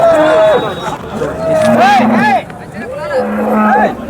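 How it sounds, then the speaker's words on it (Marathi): A large dairy cow moos loudly several times, long low calls with rising tones, amid the busy hubbub of voices and chatter at Sangola cattle market. "मोठ्या मापाची गाय आहे"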